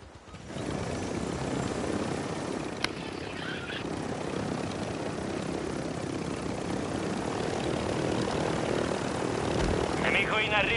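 A helicopter in Call of Duty Warzone drones steadily with a loud continuous rotor and engine roar throughout, with game effects layered on top.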